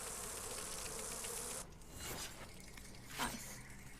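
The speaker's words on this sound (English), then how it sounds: "Throw some more bees at it" A swarm of bees hurled at an enemy in Dragon Age: Inquisition makes a dense, steady buzzing drone that cuts off sharply, followed by quieter whooshes and a brief impact.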